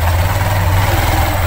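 A motorcycle idles close by on a village road, a steady low throbbing rumble that holds even and continuous throughout, with no talk over it.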